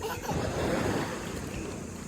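Ocean waves washing onto a beach at Botolan, Zambales, a steady, close rush of surf with wind noise on the microphone.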